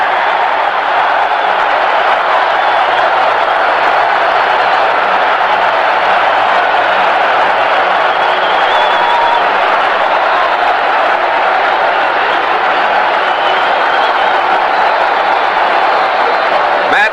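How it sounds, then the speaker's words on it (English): Stadium crowd at Super Bowl III roaring after a New York Jets touchdown, a dense sustained roar with scattered clapping, heard through an old radio broadcast with an announcer talking over it. "Touchdown, New York. And listen to this crowd."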